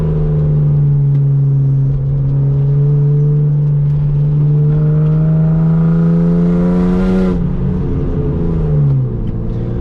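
A loud BMW E36 engine revs hard under acceleration, its droning pitch climbing steadily and then falling away as the throttle comes off near the end, with no voices over it.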